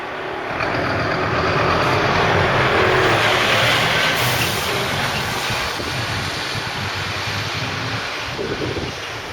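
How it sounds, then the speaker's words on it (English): A large vehicle rumbles past nearby, its broadband roar building, peaking, then slowly fading, with wind buffeting the microphone throughout. "We've got a truck coming along."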